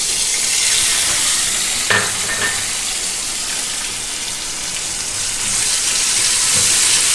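Spices sizzle steadily in hot oil in a pan: crushed pepper and cumin, then chopped ginger and curry leaves, with a loud, continuous crackling fry and a brief spattering burst as the ingredients go in.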